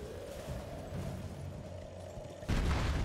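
Gunfire in Elden Ring: muffled booming shots over a low rumbling backdrop, with a louder burst of blasts near the end.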